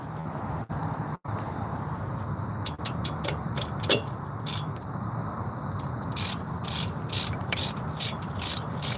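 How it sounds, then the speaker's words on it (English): A ratchet wrench clicks in quick bursts while tightening a car brake part, close and crisp, with pauses between runs of clicks and a faint background hum. "this ratchet likes to switch itself out of whatever mode you have it in"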